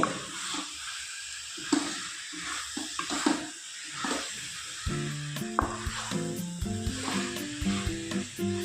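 Chicken gravy with turmeric and green chilli sizzles steadily in a pan while being stirred, with irregular scraping and clinking of the spoon against the pan layered over the continuous frying hiss.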